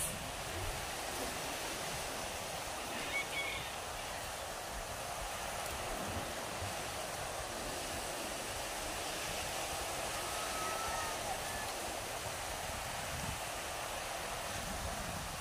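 Ocean waves at a beach make a continuous, even wash of surf that holds steady throughout, with no voices.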